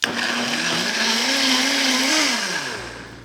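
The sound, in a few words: blender pureeing sauce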